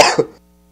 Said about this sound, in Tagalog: Dry cough yan